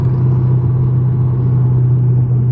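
A supercharged car with an LSA blower pulls in third gear around 3,000 RPM, a loud, steady, deep engine drone with strong low rumble that holds evenly for the whole stretch, with no voices.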